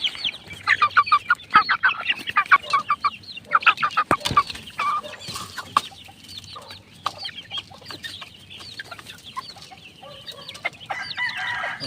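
Pet chicks and a rooster cluck and peep at feeding time, busy overlapping calls loudest early on, then softer scattered clucks close by with no talking.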